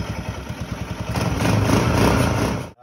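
The four-stroke engine of a Dingo T-200 snowmobile runs close by, first as a rhythmic, chugging idle and then revving up into a louder, steady drone before it abruptly cuts off.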